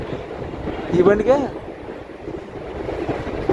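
A Machilipatnam to Bhimavaram MEMU train rumbles steadily with wind noise around the carriage, while a voice speaks briefly near the microphone.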